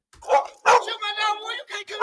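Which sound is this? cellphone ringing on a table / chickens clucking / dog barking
dog barking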